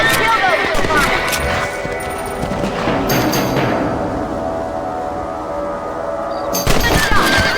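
Rifle shots at rabbits in the video game Red Dead Redemption, a few sharp cracks over dense music and ambient game noise, with game voices talking throughout.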